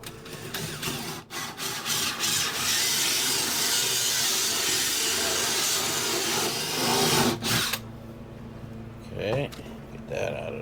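A power drill with a hole saw whines and grinds steadily, cutting a 2.5-inch hole for several seconds, then cuts out, leaving a few quieter clicks and handling sounds.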